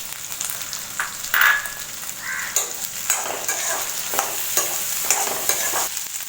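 Peeled shallots and garlic are sautéed in oil for a vendakkai puli kuzhambu, with a steady sizzle broken by repeated scrapes and stirs of a spoon in the pan.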